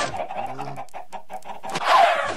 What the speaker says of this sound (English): I'm harvesting these chickens.